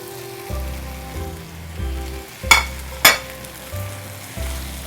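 Pieces of fried chicken sizzle in masala over a full flame, a soft frying hiss under a low musical backing, broken by two sharp utensil clacks midway.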